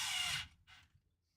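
A power drill bores through plastic into metal on a crawler: one loud, roughly half-second burst, then a shorter, fainter burst after a brief pause, close by with no talk.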